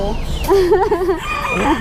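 A Polish chicken crows at a poultry shop in the Fish Village market, Ban Pong, a loud, close, wavering call over a busy background of other birds.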